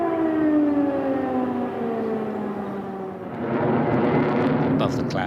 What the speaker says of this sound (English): Air raid sirens blared out across the capital.